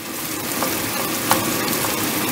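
Ground pork and chopped chayote sizzle and fry steadily in a pan with tomato, a continuous close hiss with a few brief stirring clicks.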